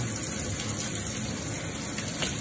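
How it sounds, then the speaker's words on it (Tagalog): Water rushes steadily and continuously down a sink drain after a blockage is cleared, close and fairly loud, with no voices. "Ganda ng agos ng tubig."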